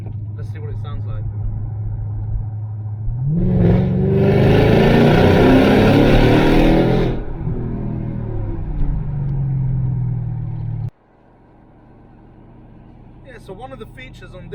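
Mercedes CLS55 AMG Kompressor with its supercharged M113K V8 driving through a tunnel, the engine rising to a loud, reverberant roar for several seconds before easing back and cutting to a quiet cabin hum.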